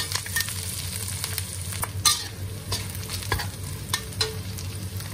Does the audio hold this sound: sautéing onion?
yes